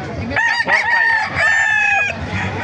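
Roosters crow loudly at a busy chicken market in Bocaue, Bulacan, long overlapping cock-a-doodle-doo calls up close, with clucking fowl and crowd noise beneath.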